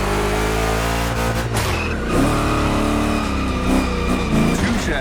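Two Chevy big-block cars race in The Crew Motorfest video game, engines roaring loud and steady with rising and falling revs through gear changes and faint tire scrub.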